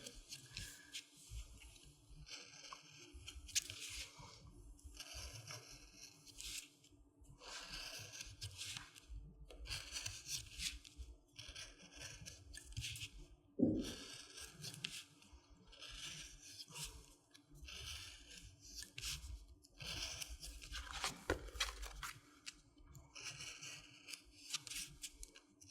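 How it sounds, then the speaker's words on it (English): Scissors cut curving lines through material for a wreath base in soft, repeated snipping and rustling strokes, quiet and close, with no voices. "Cut sort of 4 or 5 centimetre long curves."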